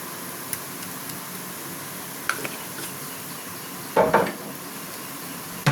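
Vegetable filling for a bread chop, seasoned with black pepper powder, fries steadily in a pan with a soft, continuous sizzle, broken by a few light clinks and a short cluster of scraping stirs near the end.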